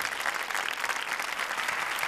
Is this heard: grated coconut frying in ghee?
no